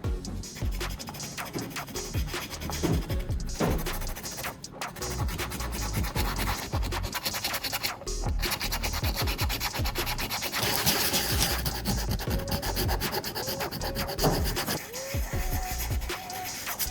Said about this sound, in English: I'll need to sand off the plating.